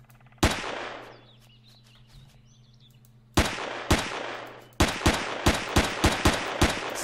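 Gunfire in Empyrion: Galactic Survival: a single loud shot rings out, then after a pause a string of sharp shots in quick succession, each with a short decaying tail, close and loud.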